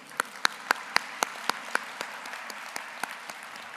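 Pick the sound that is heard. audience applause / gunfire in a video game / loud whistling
audience applause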